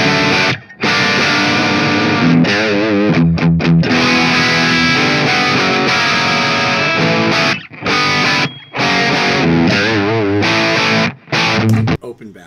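A heavily distorted electric guitar through a closed-back 4x12 cabinet plays loud riffs with sustained chords, broken by several short pauses and choppy muted bursts.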